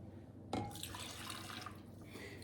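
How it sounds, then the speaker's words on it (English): Beef broth pours into a crockpot in one short, steady liquid splash that starts abruptly and runs for about two seconds, close by with no talking. "Then I'm going to add 3/4 of a cup of beef broth."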